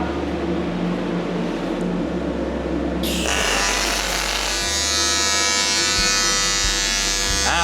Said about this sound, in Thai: ตอนนี้ใช้กระแสเชื่อม 250 แอมป์นะ แล้วก็ลากยาวเลยนะครับ